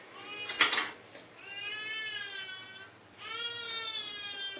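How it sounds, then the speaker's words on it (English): A baby cries in a nearby room, rising wails with short pauses and a clear break partway through, heard faintly in the background with no one talking. "You can hear my baby in the background crying."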